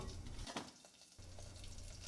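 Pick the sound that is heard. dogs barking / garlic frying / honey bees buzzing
garlic frying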